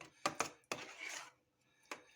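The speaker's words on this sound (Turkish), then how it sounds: "iki çiğe de samsak doğrayacağız Nursel." A knife chops garlic cloves on a board for a homemade thin-crust pizza, several sharp separate knocks spaced irregularly, close and fairly clear against a quiet kitchen background.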